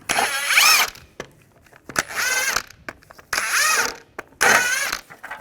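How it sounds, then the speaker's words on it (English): A ratchet with a 19mm socket works car wheel lug nuts, giving four close bursts of whirring mechanical clicking, each under a second long, separated by short pauses. "Now we're going to remove the wheels on both sides. Use a 19mm socket."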